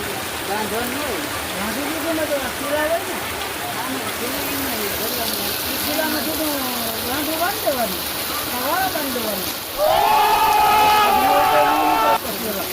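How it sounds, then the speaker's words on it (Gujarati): Steady heavy rain roars throughout in a Gujarat village while a person talks over it, and the downpour swells louder near the end. "એ પહેલાં તમે વરસાદ જોઈ લ્યો"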